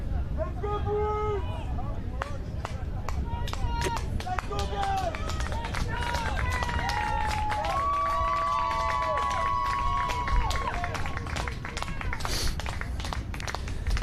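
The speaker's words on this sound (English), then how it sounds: "Little cheering on from the crowd." Crowd at a college rugby match between UCLA and Cal Poly, with scattered cheering and calls rising over steady outdoor crowd noise and babble, whistle-like tones drifting through throughout.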